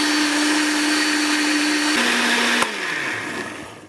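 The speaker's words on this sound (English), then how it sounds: "So now I'm gonna put this into my blender." A kitchen blender runs loud and steady, chopping pandan leaves with coconut milk, its motor pitch dropping slightly partway through as the load shifts, with no voices over it.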